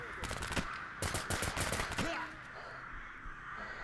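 Crows cawing in the video game STALKER, harsh repeated calls mixed with bursts of rapid gunfire, loud and close, then fading into a quieter background.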